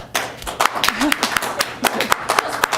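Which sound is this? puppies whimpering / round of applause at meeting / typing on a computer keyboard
round of applause at meeting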